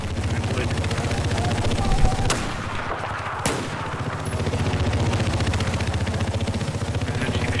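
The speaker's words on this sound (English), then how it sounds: "I'll do some sniping" Gunfire in the shooter game Battlefield 4, with sharp loud shots near the two- and three-and-a-half-second marks standing out over a steady bed of dense game noise and ongoing battle sounds.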